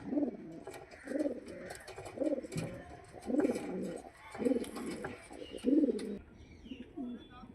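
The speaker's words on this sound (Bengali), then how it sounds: "এটা নর পায়রা।" A male pigeon coos close by in a repeated series of low, throaty, rolling calls at a fairly steady rhythm, with faint chirps in the background.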